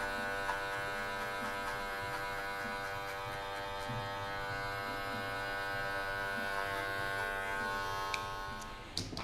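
Electric hair clippers fitted with a 1.5 guard cut hair at a barbershop, giving a steady close buzz with a rich harmonic whine that holds throughout and shifts slightly near the end.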